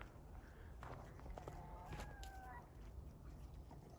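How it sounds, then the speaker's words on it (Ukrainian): A hen wades through snow on a farmstead on a frosty day, making soft, faint crunching steps with a few thin bird-like chirps and clucks over a low, steady background. "та курка повернулася, бреде по снігу"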